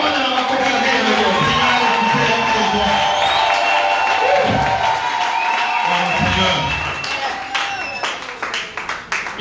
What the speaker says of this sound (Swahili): Ongea tena Bwana na makofi yako